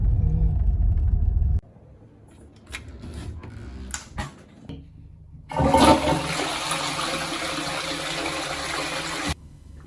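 A toilet flushes loudly with a rushing surge of water that lasts several seconds before cutting off, after quieter clunks and rumbling.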